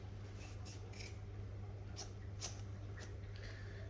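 Potatoes being peeled with a potato peeler for a Spanish tortilla de patatas, a run of quiet, irregular scraping strokes close by over a steady low hum, with no talking.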